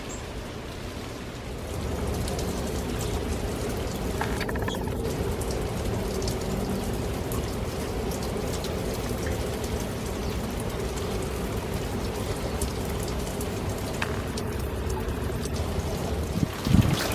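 Steady rain falls outside a house on an October night, a continuous even hiss of drops on surfaces with no voices, constant and close throughout.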